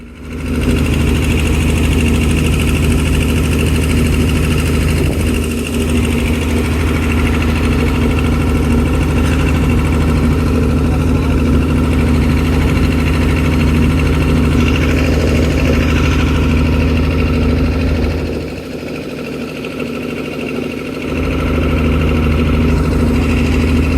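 A fishing trawler's engine runs steadily out at sea in the Bay of Bengal, a loud, continuous low throbbing drone with a constant rhythm, dipping briefly in level partway through before resuming at full strength.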